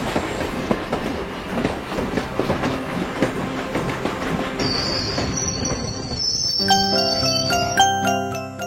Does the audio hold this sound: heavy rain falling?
no